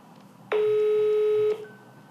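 A single telephone tone sounds for about a second during an attempt to call a district council head, a clear steady beep standing alone against quiet background.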